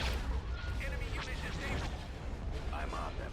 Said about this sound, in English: Here comes the bombs.